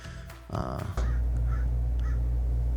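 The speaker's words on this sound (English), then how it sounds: "Do you hear those crows?" Crows caw from a distance, a few harsh calls over a steady low rumble of background noise.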